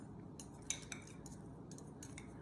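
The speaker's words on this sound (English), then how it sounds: "Now we're gonna give it a stir." A metal bar spoon stirs a cocktail with chai bitters in a mixing glass, giving soft rapid tinkling clinks of ice against glass, faint and close.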